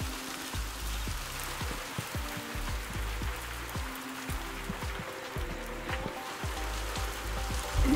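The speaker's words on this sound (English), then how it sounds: "Whoa! And it's raining?" Rain falling in the puzzle video game Viewfinder, a steady patter of drops hitting surfaces throughout with repeated low thuds, loud and continuous.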